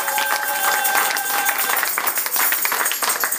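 A church congregation at a French-language Sunday service claps and cheers in acclaim, a dense, steady wash of many hands and voices that carries loudly throughout.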